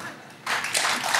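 A studio audience breaks into applause at a television talk show, a sudden burst of dense clapping that swells and holds steady after a brief quiet lead-in.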